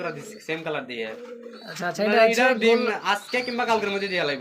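Racer pigeons cooing in a loft, with low, throaty coos mixed in beneath someone talking nearby.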